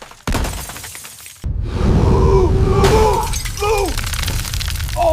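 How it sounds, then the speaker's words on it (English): A TV smashed by a swinging tail in a Charizard survival game, with a loud burst of shattering glass and breaking debris, followed by rumbling noise and a voice in the background. "he swung his tail sharply and smashed our TV"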